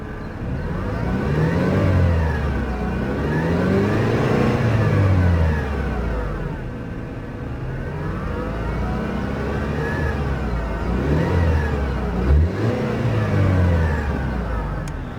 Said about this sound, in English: here she sounds